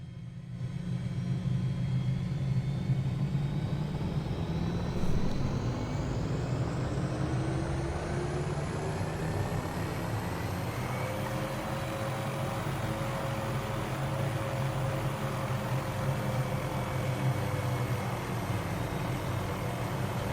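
An MD500 helicopter in a flight simulator game spools up, its engine whine climbing steadily over a constant dense rumble of turning rotor blades, loud and unbroken throughout with no talk.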